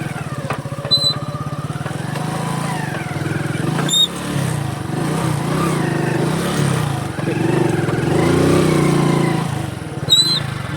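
A vehicle engine runs in first gear on half clutch with light throttle, a close, steady, loud drone that swells slightly with small throttle changes, with faint high chirps now and then.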